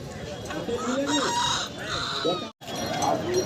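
Chickens and roosters at a crowded poultry market, with a rooster crowing and hens clucking close by, loud and continuous, while people talk amid the bustle and a brief near-silent gap breaks it.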